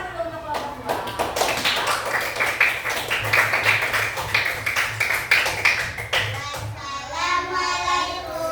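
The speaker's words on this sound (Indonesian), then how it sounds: "selanjutnya sudah boleh kita kasih tepuk tangan dulu untuk kelompok 2" Fourth-grade class applauding a student group, steady dense clapping from many hands for several seconds, with children's voices following at the end.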